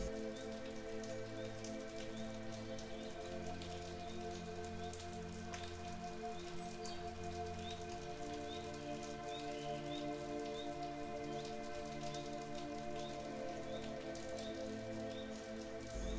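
Gentle rain falls steadily on a surface, a soft even patter of drops that continues throughout under a faint background of calm tones.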